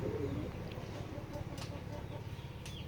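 Low, murmuring coos from several male pigeons on a farm overlap continuously, close by, with faint background noise.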